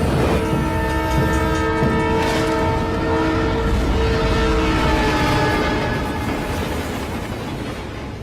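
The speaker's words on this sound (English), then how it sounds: "they barely avoid a speeding train" In a Fast and Furious film scene, a train speeds past close by with a sustained, blaring horn and steady rumbling, the noise gradually easing toward the end.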